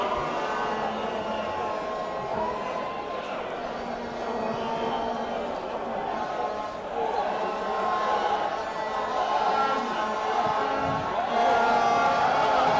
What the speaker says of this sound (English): the crowd gets animated here at the Nyayo National Stadium